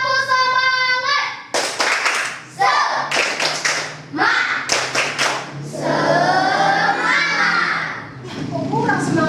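A classroom of children performs the tepuk semangat spirit clap, several bursts of rhythmic group clapping with chanting and kids' voices between them, loud and close.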